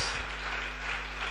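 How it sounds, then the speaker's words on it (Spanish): A church congregation applauds together, a steady, dense wash of clapping held at an even level through the whole short moment, with no voices standing out. "¿Cuánto le dan un aplauso al Señor?"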